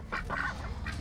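A chicken on an outback property in Katherine gives a few loud, close squawking calls in quick bursts, with short pauses between them.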